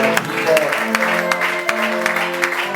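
A church congregation applauds the Lord in a steady, dense wash of clapping that holds evenly throughout, with some voices and tonal sounds underneath.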